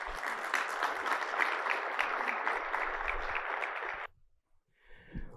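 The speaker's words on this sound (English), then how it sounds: "A round of applause for him, please." Audience applause at a mortgage technology event, welcoming a singer before the national anthem: steady, dense clapping from a crowd for about four seconds, then cutting off, followed by a brief faint sound.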